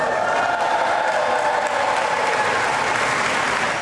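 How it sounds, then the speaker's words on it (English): A hometown crowd at the Manta Rays swim club applauds Olympic swimmer Carson Foster back from Paris, a loud, continuous wave of clapping with faint cheers mixed in. "now applauding his Olympic accomplishments"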